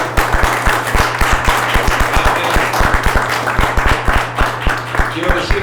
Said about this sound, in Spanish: Dale un fuerte aplauso a Cristo Jesús si tú tienes la victoria.